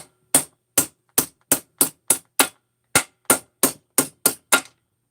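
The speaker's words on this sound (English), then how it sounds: "These studs I can tap back in. Guess I can tap them in now." Metal studs are tapped back into a Husqvarna 346XP chainsaw case half during a teardown, giving about fourteen sharp, close knocks in two quick runs separated by a short gap.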